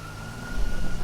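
A police siren from GTA 5 Online holds one steady high wail, moderately loud, over a low rumbling engine bed, with no talk.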